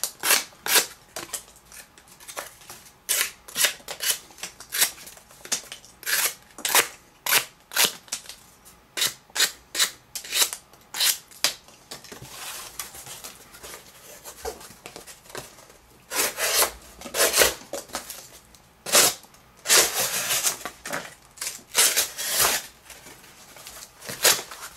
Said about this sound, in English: Really easy to cut through the cardboard with this knife.